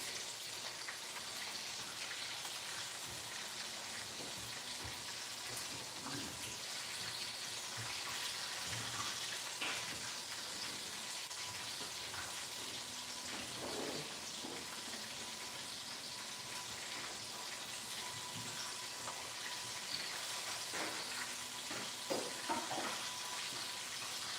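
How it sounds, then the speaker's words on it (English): Food frying in a skillet gives a soft, steady sizzle with scattered pops and small clatters, fairly quiet and continuous without talking. "Then I'm going to put it in the skillet."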